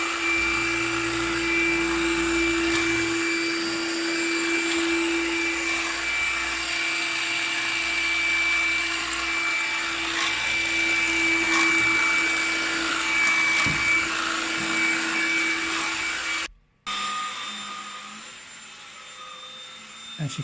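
A Black and Decker Multipro 2 in 1 cordless vacuum cleaner, model CUA525BH-GB, runs steadily up close with a whining motor hum and airy suction rush. It cuts out abruptly near the end, then resumes more quietly.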